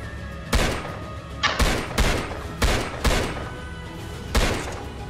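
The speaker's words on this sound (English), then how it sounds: "I think he knows I was shooting at him" Gunfire from the online shooter game Impulse comes in several sharp bursts spaced about a second apart, each with a punchy impact and a decaying tail over a steady background hum.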